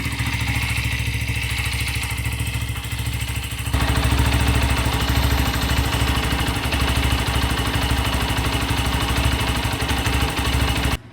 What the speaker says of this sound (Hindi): इंजन का साउंड हमारा मस्त वाला मक्खन है।